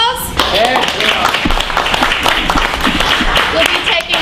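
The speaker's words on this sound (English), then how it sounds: "Ed Sanders, let's give him a big round of applause" A studio audience at a cable TV show breaks into steady, dense applause and clapping for performer Ed Sanders, sustained and loud throughout, with voices mixed in underneath.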